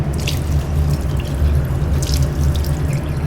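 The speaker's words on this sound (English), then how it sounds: "And then rinse with DI water." Laboratory glassware rinsed with deionised water at a sink: running tap water with dripping and splashing over a steady low hum.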